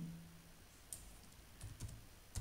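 Someone types on a computer keyboard with just one hand, producing sparse, faint key clicks in small irregular clusters against a quiet room background.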